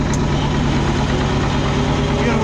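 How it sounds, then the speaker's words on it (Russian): A ZAZ car heater fitted in a cold T-25 tractor runs with a steady, loud mechanical hum and whir, constant throughout with no breaks or talking. "Короче, запускаю сразу печку."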